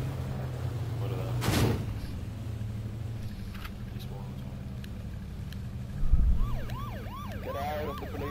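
A police car siren in the video game H1Z1 sounds under voices talking and a loud burst of noise near the start, then rises into a distinct rapid whooping wail toward the end, with a thump just before.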